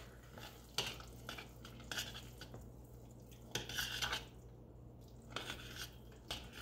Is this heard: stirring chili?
yes